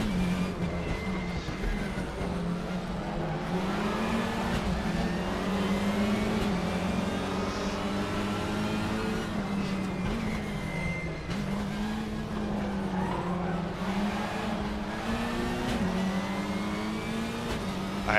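Front-wheel-drive race car engine in Raceroom Racing Experience, a steady loud drone with shifting revs and faint tire squeal, holding up throughout without any talk.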